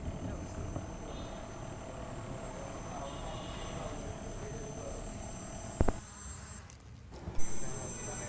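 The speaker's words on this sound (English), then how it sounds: "Here is our third clip of drone delivery system." A small delivery drone's steady propeller hum drones on continuously outdoors at moderate level, with a sharp click near six seconds and a brief gusty disturbance shortly after.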